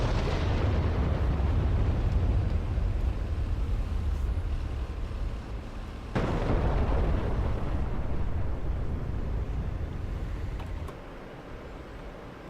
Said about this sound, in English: And there goes all our rockets.